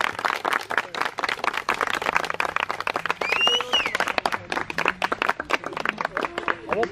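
Family applause at a surprise birthday party: steady, dense hand clapping from several people nearby, continuing throughout with voices calling out over it.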